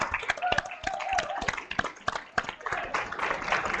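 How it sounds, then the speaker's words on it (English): Audience at an arts event applauding a presenter, a burst of dense hand clapping from a room full of people, fairly close and sustained, thinning slightly toward the end. "I think Kristen deserves another round of applause for that great presentation."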